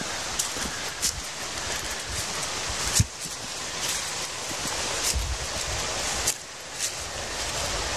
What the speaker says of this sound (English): you can hear the creek running